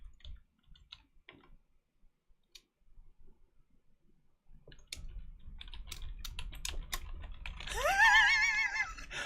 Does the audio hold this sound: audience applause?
no